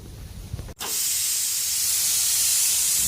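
Pressure cooker cooking beef vents a loud, steady burst of hissing steam that starts abruptly after a brief low rumble and continues unbroken to the end.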